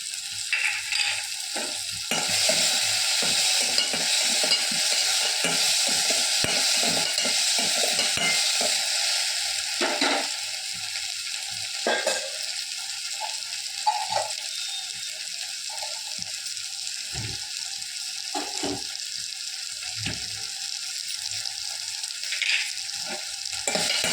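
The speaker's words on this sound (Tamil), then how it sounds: "தக்காளி நல்ல மசிய வதங்கணும்" Tomatoes sauté in a hot pan under steady stirring: a continuous nearby sizzle, louder at first, with irregular scrapes and knocks of the spatula against the pan.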